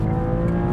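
Car engine held at high revs near the redline by an automatic gearbox, a loud steady droning hum without shifting, close and alone.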